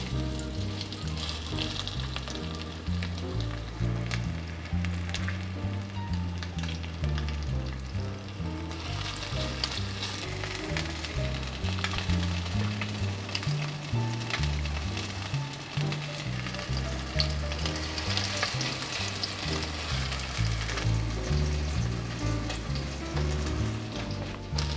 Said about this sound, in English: that goes directly onto the frying pan. I'll just press it down into a patty.